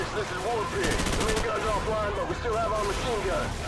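Rapid gunfire in a multiplayer shooter video game, bursts of shots over busy game noise, with voices talking throughout.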